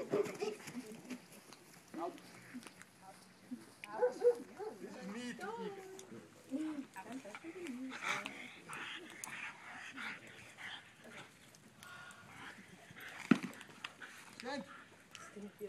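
Dog during bite training on a hook and collar, with scattered whimpers, short barks and panting amid people talking and handling noise.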